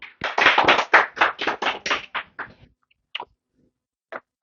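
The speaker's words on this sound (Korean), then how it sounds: "박수로 하나님께 영광을 돌립시다." A small church congregation claps in praise, a dozen or so distinct claps in quick rhythm that thin out and stop, followed by a couple of isolated late claps.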